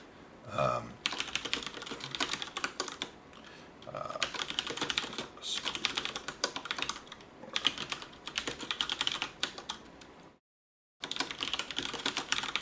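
Rapid keystrokes on a computer keyboard, steady and close, run in bursts through most of the stretch, broken by a brief full silence near the end before typing resumes.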